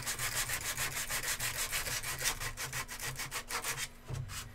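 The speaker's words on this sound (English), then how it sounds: "Just don't go too far with the Dremel because it's easy to push in there too far" A Dremel rotary tool grinds a logo off a surface, producing a steady, close abrasive rasp that pulses in rapid, even strokes before easing off near the end.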